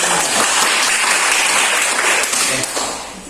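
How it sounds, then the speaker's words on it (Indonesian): A classroom group applauds as the first discussion group stands at the front to present, a loud, continuous wash of clapping that tapers off near the end. "Tepuk tangan untuk kelompok 1."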